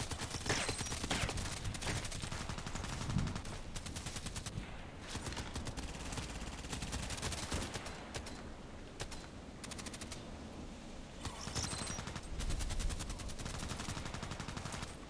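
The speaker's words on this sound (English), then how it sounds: "These things are shooting at the other ones." Dense video game gunfire crackles without pause, rapid automatic bursts and single shots overlapping in a loud continuous battle din for the whole stretch.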